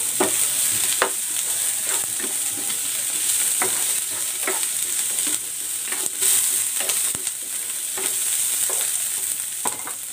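Snow peas sizzle in a pan of pork stir fry, a steady close frying hiss broken by frequent clicks and taps of stirring, with no one speaking.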